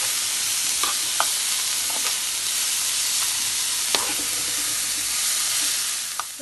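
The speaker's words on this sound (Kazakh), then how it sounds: "Мінекей аздап пияз салдық, енді қуырып аламыз." Onion and champignon mushrooms fry together in a pan: an even, close sizzle with a few light clicks of a utensil stirring.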